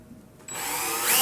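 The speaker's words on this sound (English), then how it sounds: "and then I'll go ahead and just drill all the way through a pilot hole" A drill drives a 1/8 inch bit through to make a pilot hole for a puck install, spinning up sharply after a brief quiet start and holding a loud, steady whine that climbs slightly toward the end.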